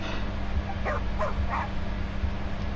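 Dog in the Genshin Impact game giving a few short yips and whimpering barks, clearly audible over a constant low background hum, with no talk.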